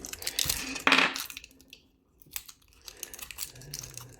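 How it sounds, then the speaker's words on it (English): Packaging is ripped off during the unboxing of an instax WIDE 400 camera: a sharp, close tearing burst followed by scattered crinkles and light handling clicks. "Rip this off here"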